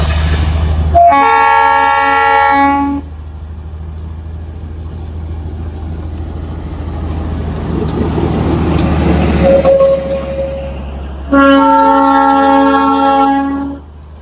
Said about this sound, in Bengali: ওদের টয় ট্রেন কিন্তু চলে এসেছে